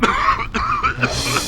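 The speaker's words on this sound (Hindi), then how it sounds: "आपको तो बहुत बुरी खांसी, कुछ लेते क्यों नहीं?" A single harsh cough or throat-clearing burst, close and fairly loud, with a short rasping follow-up; no speech.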